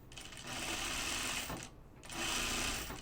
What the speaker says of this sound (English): Like with this serger just behaves differently